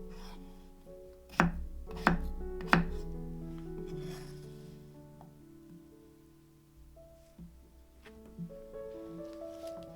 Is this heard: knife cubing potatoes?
yes